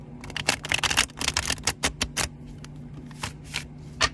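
A tarot deck is shuffled by hand in a quick series of crisp riffling snaps and flutters, close and distinct, with the bursts coming irregularly and thinning out toward the end.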